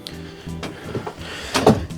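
Dresser drawers in the bedroom of a Salem Hemisphere 286RL fifth-wheel RV by Forest River slide and bump shut, a few soft wooden knocks and scrapes close by.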